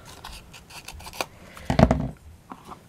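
Scissors cut through paper card in a few close, crisp snips, with a louder cluster of cutting and handling sounds near the middle, set against quiet background.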